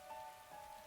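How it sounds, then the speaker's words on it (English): Rain pelting a rooftop in the video game Hundred Line: Last Defense Academy, a steady, faint wash of drops with no voices over it. "Raindrops were pelting the rooftop all around me, producing a relentless rhythmic beat."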